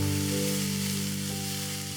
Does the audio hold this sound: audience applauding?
no